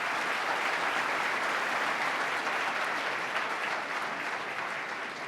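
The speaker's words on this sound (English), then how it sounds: "Let's stand up and let's give them a round of applause and thank you for being here." A crowd at a state address applauds hockey players with a steady, dense roar of clapping that holds at full strength throughout, fading only slightly at the end.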